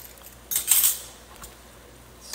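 A spatula scrapes and clinks against a wok pan while stirring minced garlic into cooked pork, two quick metallic strikes close by in a quiet kitchen.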